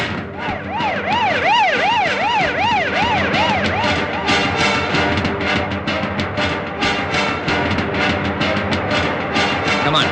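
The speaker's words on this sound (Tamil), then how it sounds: "இந்த ஆம்புலன்ஸ் அடிக்கடி வருதே." A loud ambulance siren wails in rapid rising and falling sweeps as it passes close by on a street, then fades into steadier traffic noise with pulsing siren tones.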